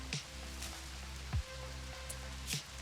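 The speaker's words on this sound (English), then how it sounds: "Look at that rain." Rain falls as a steady soft hiss in the video game Rimworld, under a constant low hum, with a few faint drops and clicks.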